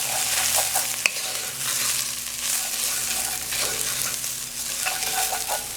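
A spoon stirs okra, saltfish and rice together in a pot over low heat, giving steady scraping and shuffling with a soft sizzle underneath, close and continuous, with no talking.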